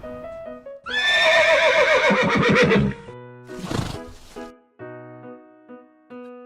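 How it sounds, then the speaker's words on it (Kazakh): A horse neighing, one loud, long, shaky whinny with descending pulses, followed by a shorter snort-like burst, set among short tonal musical notes from a children's cartoon about farm animals. "жылқы"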